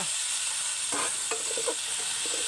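Field frog adobo sautés in a pan with onion, a steady loud sizzle and hiss broken by a few stirring scrapes and clinks, close and without speech.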